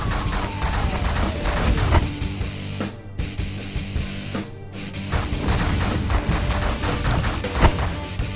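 An energy blaster fires repeatedly in the space strategy game The Last Federation, a loud, continuous barrage of crashing, gunfire-like blasts that rolls on for several seconds with brief dips in between.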